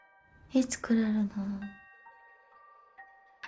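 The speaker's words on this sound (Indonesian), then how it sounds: "Suara lonceng berdenting" A bell chimes in a Japanese horror film, ringing out with a sustained, slowly fading tone after a brief voice, then struck softly once more near the end.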